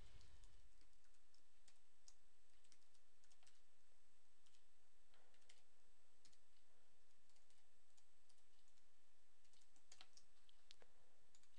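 Quiet, scattered keystrokes on a computer keyboard while an expression is typed into animation software, soft irregular clicks spread across the whole stretch with no talking.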